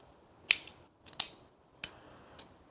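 A cutter snips a Drew Estate Nica Rustica cigar, giving several sharp, close clicks spaced out with quiet between them and no talk.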